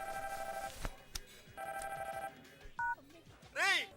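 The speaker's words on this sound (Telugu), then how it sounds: "ఫోన్ రింగ్ అవుతోంది." A telephone ringing in a comedy film scene, with repeated bursts of an electronic ring separated by pauses, a short beep and a warbling tone near the end, heard close and clear under a low background bed.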